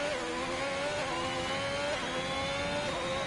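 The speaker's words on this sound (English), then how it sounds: "you can hear the car just holding back a little bit" A racing car in a sim racing game at Belgium holds a high, steady engine whine with slight pitch shifts as the throttle is held back by traction control, loud and continuous without speech.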